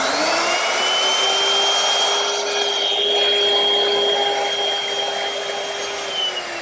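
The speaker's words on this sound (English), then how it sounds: "I'm going to use my router with a straight cutting bit and a fence" A woodworking router fitted with a straight cutting bit and fence cuts a pass through wood for a trestle table, a loud steady high-pitched whine with cutting noise, continuous and close with no speech.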